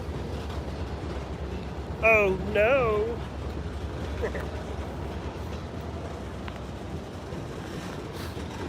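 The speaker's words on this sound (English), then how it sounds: "Man, this train is such a pushover." A Norfolk Southern or CSX train rolls through Chattanooga, Tennessee with a steady low rumble and wind-buffeted noise, broken near the start by a brief rising whine or squeal, while a voice speaks briefly over it.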